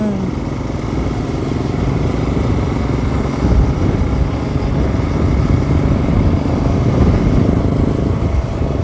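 A motorcycle engine runs loudly and steadily nearby on a road toward Valparai, a continuous low rumble that swells slightly in the second half.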